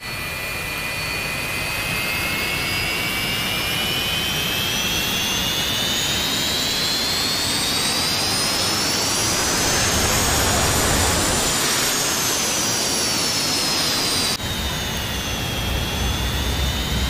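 F-86F Sabre jet engine in the DCS flight simulator, heard from outside the aircraft: a loud, continuous roar with a whining tone that climbs steadily, then eases back down, with no talking.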